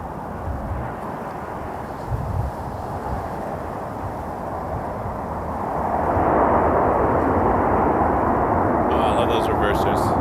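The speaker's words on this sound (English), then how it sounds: "Oh, I love those reversers." Airliner thrust reversers roar after landing at Toronto Pearson Airport, a broad rumbling roar that swells and grows louder in the second half, with people talking over it.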